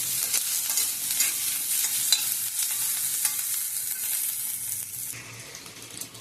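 Black cumin seeds fry in oil with a bright, continuous hiss and scattered crackles, easing off slightly toward the end.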